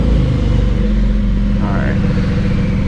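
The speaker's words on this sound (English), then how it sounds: "I'm gonna give you guys a couple of revs. Let's see if you can hear it." A straight-piped Lexus engine idles with a deep, steady rumble, loud and close, with a brief rise in pitch partway through; no voices.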